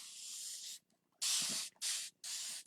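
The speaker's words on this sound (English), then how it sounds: "I'm going to spray the board down" Three short hissing bursts of a spray bottle misting water onto a chalkboard after one longer spray, close up, with brief silent gaps between them.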